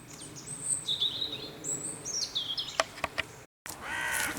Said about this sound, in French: il y a un corbeau qui crie pas loin là